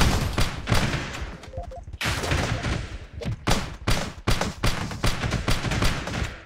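Grenades spammed in the top-down game Teleglitch burst in a dense, rapid run of loud, close explosions, one blast after another with barely a pause between them.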